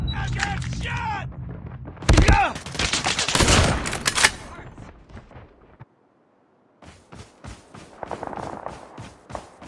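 Gunfire in the Call of Duty Mobile video game: rapid bursts and heavy shots crackle loudly, with a brief silent gap before a fresh string of sharp, evenly spaced shots, and voices are heard over the early part.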